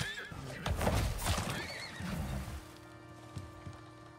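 A horse in the survival video game Icarus lets out a loud, close whinny that trails off into a few quieter snorts and faint hoof thuds.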